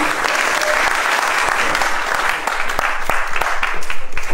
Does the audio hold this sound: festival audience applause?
yes